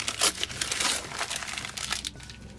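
Close, moderately loud crinkling and rustling of paper as a birthday gift package is unwrapped, with irregular crackling bursts continuing throughout and no talking.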